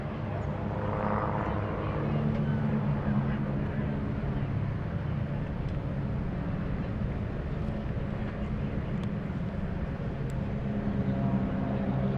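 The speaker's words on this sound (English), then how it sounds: "these airplanes are coming over the top of several C-47s, DC-3s," A steady low engine drone fills the air, a broad continuous rumble of warbird aircraft, including C-47s and DC-3s, passing overhead in formation at EAA AirVenture 2019, with no break.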